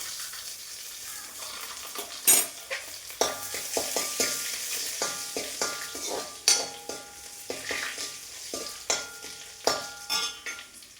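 Finely chopped garlic stir-fries in a pan, with a busy sizzle and frequent rhythmic scrapes and clacks of a spatula against the pan, loud and close.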